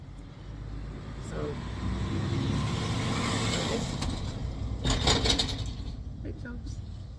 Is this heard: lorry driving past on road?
yes